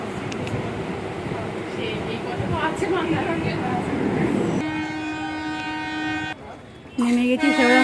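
A train pulls out of a station toward Howrah, rumbling and clattering close by before a loud, sustained horn blast cuts through, then a second horn sounds; voices are heard under the rail noise.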